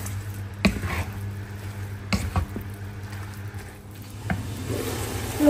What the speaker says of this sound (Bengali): এখানে আমি ছুরি শুটকিটা ভেজে ফেলি, বাংলাদেশ থেকে আনা।